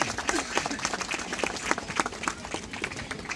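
Wedding guests at a ring ceremony clap in a loose, uneven patter with distinct individual claps, moderately loud and continuous.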